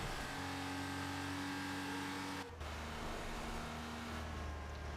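A Porsche 911 Carrera RS 2.7 Cup race car in Need For Speed Porsche Unleashed drones steadily at high revs, with a brief drop during a gear shift before the engine note carries on alone.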